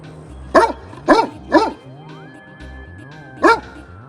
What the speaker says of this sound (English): No, don't you growl at me.